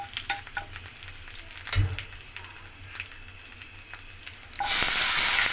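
Curry leaves and panch phoron crackle gently in hot oil with a few stirring taps, then chopped tomatoes hit the pan and a loud, steady hiss of frying surges up and continues.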